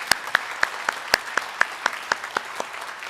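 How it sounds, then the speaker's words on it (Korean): Audience in a church welcoming a guest professor with applause, a run of about a dozen sharp, evenly spaced claps ringing out alone with no talking. "잠깐 일어서시면 우리 박수로 환영하도록 하겠습니다."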